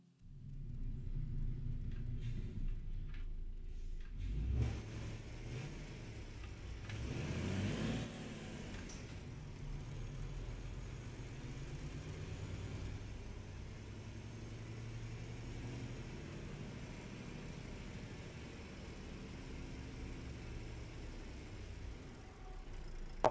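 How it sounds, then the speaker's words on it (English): A truck engine rumbles with a deep bass drone, rising in a revving surge early on and then holding a steady, continuous low roar. "this is more like the truck sounds that I like"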